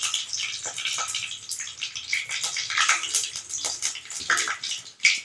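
Pieces of green jackfruit drop into hot tempering oil, setting off a crackling, bubbling sizzle with irregular spitting pops, fairly soft and without talk.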